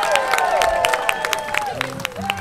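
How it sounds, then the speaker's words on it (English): A crowd at a Disney World cowboy stage show claps, screams and cheers in a short burst, bright whoops and whistles rising over dense applause, with voices mixed into the din. "A lot of clapping, screaming, cheering."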